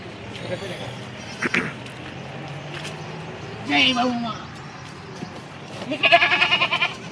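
Kathewadi goats and kids bleat in a few short, separate calls close by, over a busy outdoor background with someone talking.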